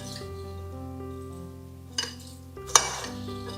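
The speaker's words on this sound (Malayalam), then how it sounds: "ഇതിങ്ങനെ ഇട്ട് നമുക്ക് നല്ലോണം മിക്സ് ചെയ്തിട്ട് വെക്കാം." Mango pieces being mixed with rock salt for pickle, heard as a few clinks and scrapes of a utensil against a bowl, with one sharper knock near the end, close and fairly quiet.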